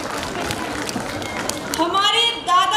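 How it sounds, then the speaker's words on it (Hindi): Applause for young student performers at a school Grandparents Day cultural program, a dense crowd clapping throughout, with a voice talking over the latter part. "जोरदार तालियां हमारे नन्हे नन्हे छात्रों के लिए।"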